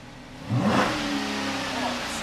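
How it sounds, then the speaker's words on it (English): V8 Dodge Charger engine blips up in a quick rev from idle, then eases back to a steady rumble, close and fairly loud. "Rev it up."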